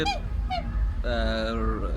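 Large domestic geese, a foreign breed kept by a hobby farmer, give a few loud, close honks: two short nasal calls followed by a longer, drawn-out honk.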